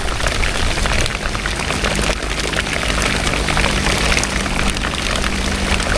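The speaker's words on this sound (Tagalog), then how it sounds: "Lumakas na ang ulan." Heavy rain pours down steadily, a dense continuous hiss with no pauses.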